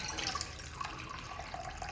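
Tap water runs steadily into a vessel to measure about one cup for mango squash syrup, a continuous splashing rush with no talking.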